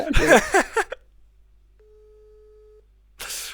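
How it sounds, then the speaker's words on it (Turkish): A telephone tone in a Minecraft survival game session: a single steady electronic beep holding for over a second in near silence, framed by a person talking before it and a burst of noise after. "Aa çalıyor. Kimin telefonu?"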